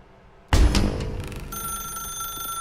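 A telephone rings in The Stanley Parable video game, with a sharp electronic onset and then a sustained, steady ringing tone that holds to the end.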